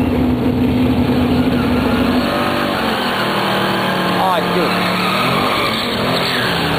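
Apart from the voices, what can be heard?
Camaro and truck drag racing, tires squealing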